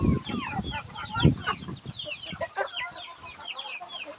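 Several crossbreed breeder hens cluck and chatter close by, a busy overlapping stream of short calls from a small flock.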